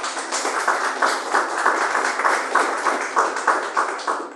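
A church congregation claps steadily in rhythm during a Portuguese-language worship service, a dense, even wash of many hands beating in quick pulses with no voices on top.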